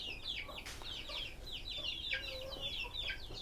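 Chicks cheep in a poultry pen, dense overlapping high chirps repeating steadily throughout, with faint clucking and background noise underneath.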